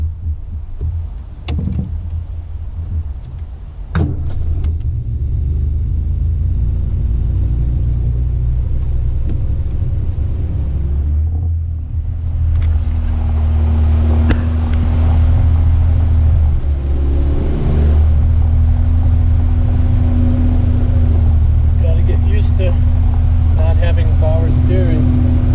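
A 1967 Austin Healey 3000 MK3 BJ8 idles with a steady, loud low rumble, its engine running for the first time in a while with carburetors needing rebuild, a sharp knock or two early and a voice speaking over it.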